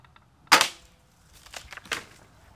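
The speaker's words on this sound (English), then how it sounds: "You bring it up, aim it where you want to shoot." A New World Arbalist medieval crossbow fires with one sharp, close snap followed by a softer rattling thump and a second crack, in quiet surroundings.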